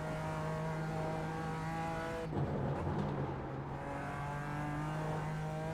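A GT4 race car on the Nurburgring Nordschleife holds a steady in-cabin engine drone with a strong fundamental tone, briefly disturbed by a shift or bump midway before settling back to an even hum.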